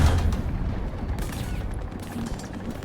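Tank cannon fire hits the player's light tank in War Thunder: a sharp boom at the start, then rattling mechanical clanks and scattered distant gunfire over a low rumble.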